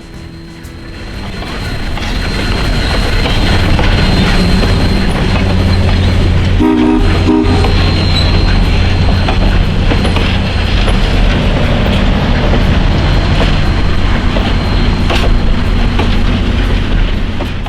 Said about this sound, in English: the GSMR's steam locomotive, Consolidation Type Engine number 1702, was already busy pulling fall color specials